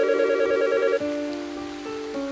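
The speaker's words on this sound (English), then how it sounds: "That's when the phone began to ring." A phone rings in Fortnite with a sinister, tonal electronic ring of sustained stepped pitches, moderately loud and alone, with faint rain-like noise beneath.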